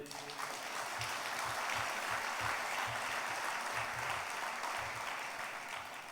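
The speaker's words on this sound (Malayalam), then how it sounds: "ഒന്ന് കൈ ഉയർത്തി കൈയടിച്ചേ" A church congregation claps together during a sermon, a steady, even wash of crowd applause with a rhythmic beat, holding at the same level from start to finish.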